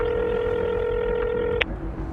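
A telephone keypad sounds a long, steady tone that cuts off into a single short beep, loud and close, with no voices.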